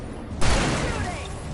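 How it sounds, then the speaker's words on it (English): Gunfire in Alan Wake Remastered opens with a sudden broadband blast and rolls into a dense, noisy rumble of shots and booms, loud and close, with a voice mixed underneath. "Shooting"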